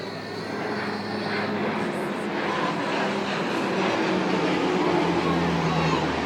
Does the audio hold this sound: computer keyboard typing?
no